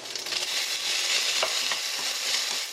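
Onions sizzle loudly in a hot pan over high heat alongside pork, a dense continuous hiss with intermittent stirring scrapes and pops, close, with no one speaking.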